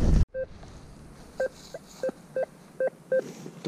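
Metal detector giving short, evenly pitched beeps in a field, about eight brief tones in an irregular rhythm as the coil sweeps over a small buried coin.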